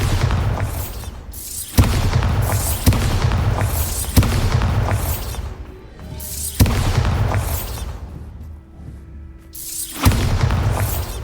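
Repeated Bombarda spell blasts in the Hogwarts Legacy video game, a series of loud booming explosions roughly every two seconds, each sharp onset decaying into rumble, with a steady low hum between.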